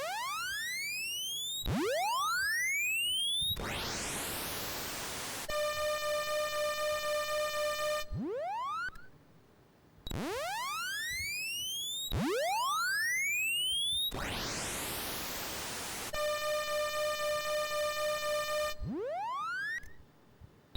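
A Commodore 64 SID sound chip that sounds slightly off runs its test tones: repeated rising sweeps, buzzy noise bursts and steady pitched beeps in a looping pattern, fairly quiet and cycling twice.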